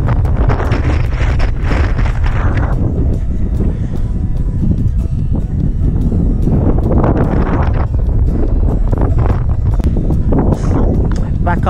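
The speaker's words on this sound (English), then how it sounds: "Wind's really picked up." Strong wind buffeting the microphone on a mountain path near a quarry in Scotland, a constant loud low roar and rumble throughout, with someone speaking intermittently over it.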